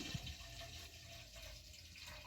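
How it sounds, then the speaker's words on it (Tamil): Fresh cow's milk pouring steadily into a heavy pot, a continuous close liquid splash and gurgle with a brief thump at the start. "அந்த பாலை நம்ம ஊற்றிக்கிடலாம்"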